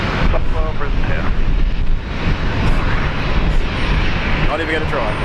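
Airbus A220, a Bombardier-designed airliner, roars steadily at Brisbane Airport under wind buffeting, while people talk over the broad engine noise.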